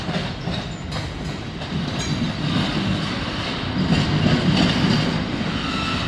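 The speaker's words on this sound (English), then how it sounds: "What a great train, guys." A Norfolk Southern freight train with a heritage-unit locomotive rumbles steadily past at close range, low wheel noise and rail clatter building slightly toward the end, with no voices.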